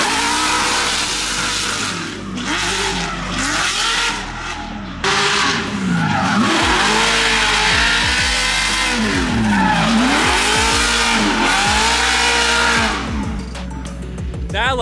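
A C6 Corvette drift car roars loud and close with the engine revving hard and swooping up and down between shifts, tires squealing continuously through the slides; voices talk faintly beneath the din.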